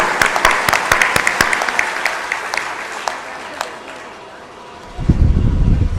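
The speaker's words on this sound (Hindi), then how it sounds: "ताली बजा दो जोरदार" Applause rises at a devotional bhajan gathering, with sharp hand claps that thin out over several seconds. A low rumble of voices or movement swells near the end, under no clear speech.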